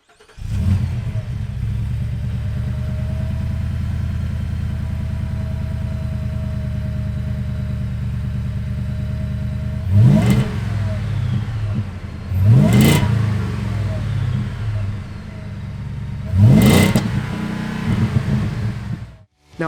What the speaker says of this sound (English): The sounds this thing puts out is music to the V8 lover's ears through its stainless steel catback exhaust system.